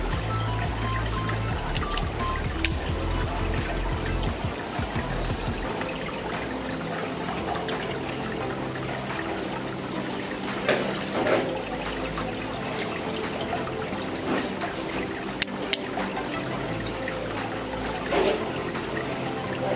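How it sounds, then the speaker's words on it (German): Water stirred up in a home aquarium, a steady close trickling and bubbling wash of liquid that runs continuously without talk. "ein bisschen Wasser aufgewirbelt"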